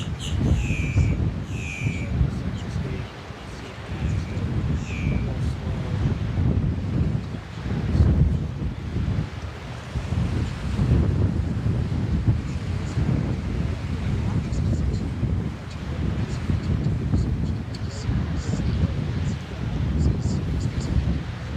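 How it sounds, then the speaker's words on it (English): Wind gusts buffet an outdoor microphone near a SpaceX launch site before the USSF-124 launch, a steady low rumble rising and falling throughout, with a voice talking over it. "And the wind's coming right out of the north, which has helped with clear skies."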